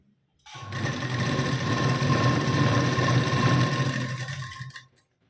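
A sewing machine stitches along a blouse waistband in one steady, close whirring run of about four seconds, with no talk over it.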